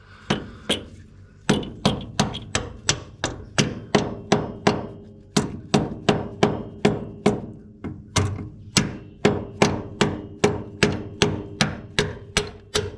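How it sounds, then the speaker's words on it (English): Steady hammer taps ring out on metal while working on a 1939 Chevrolet, about two dozen sharp, close blows in a fairly even rhythm with a short pause early on, no voices. "Let's give it a tap with the hammer."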